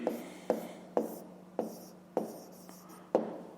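Handwriting during a 5th-grade math exercise: close, distinct pen taps and strokes on paper, about seven quick marks spaced roughly half a second apart, each fading into a soft scratch.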